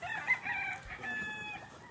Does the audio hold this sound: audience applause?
no